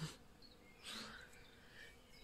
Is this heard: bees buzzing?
yes